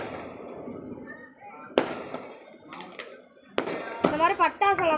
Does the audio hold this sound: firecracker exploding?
yes